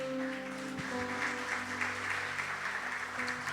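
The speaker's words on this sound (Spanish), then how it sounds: "Dale un fuerte aplauso al Señor." Applause from a church congregation fills the space as a sustained wash of clapping, steady and moderately loud, with a low musical hum and sustained tones beneath it.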